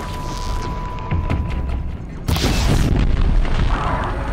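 Fire arrows set off a booming explosion in the action game Horizon Zero Dawn, a loud rumbling blast that swells sharply midway and lingers over a noisy, crackling background.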